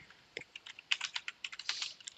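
Code typed on a computer keyboard, a quick, irregular run of close, faint key clicks with brief pauses, no talking.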